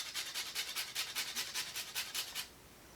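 Rapid rhythmic scraping of a whole nutmeg rubbed across a microplane, about a dozen even rasping strokes close by, then stopping into quiet.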